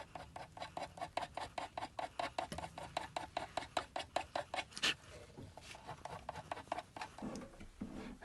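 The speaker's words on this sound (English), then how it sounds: "And I'm gonna give these sides as well filing." A hand file rasps across the sides of a wax signet ring carving: rapid, regular back-and-forth scraping strokes, close and quiet, for about five seconds before slowing into softer scattered rubbing.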